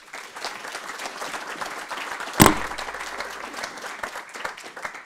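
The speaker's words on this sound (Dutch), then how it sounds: "Mag ik een heel warm applaus voor Lot Logger." Warm audience applause greets a guest at an Amsterdam climate evening event, steady dense clapping with a sharp loud bump midway, likely a microphone knock.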